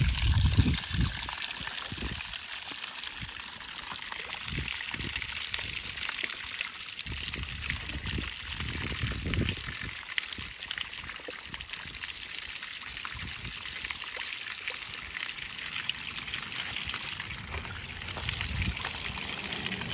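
Water from a Harbor Freight pump and garden hose runs down a homemade Quikrete concrete and rock waterfall, giving a steady soft trickle and splash throughout, fairly faint and close, with no speech.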